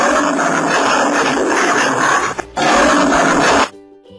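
A tiger roars loudly and close, a rough sustained roar that breaks briefly and then resumes for a second burst before cutting off.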